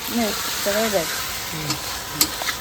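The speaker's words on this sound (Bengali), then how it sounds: "মশলা কষানো হয়ে গেছে" Spice masala fries and gets stirred in a pan for chicken kosha, a steady close sizzle with scrapes and clinks, while a voice talks over it in short bursts.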